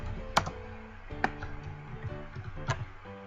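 Typing on a computer keyboard while entering data in SPSS, a few sparse clicky keystrokes at irregular intervals over a faint steady background hum.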